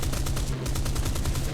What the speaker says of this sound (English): Use the firepower of this plane, just a tap on the cannons.